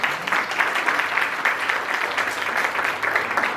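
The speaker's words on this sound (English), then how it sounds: "A round of applause to all these winners who are all winners in our eyes." An audience at a national moot court competition's valedictory ceremony applauds the winners with sustained, evenly dense clapping that fills the hall at a steady level throughout, with no speech over it.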